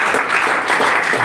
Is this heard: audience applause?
yes